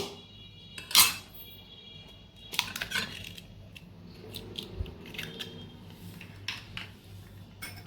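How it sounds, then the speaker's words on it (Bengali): An egg cracked into a bowl: one sharp crack near the start, then softer clinks and wet shell handling against the bowl, quiet and close with no talking. "বাটির মধ্যে একটা ডিমটা ফাটিয়ে নেব"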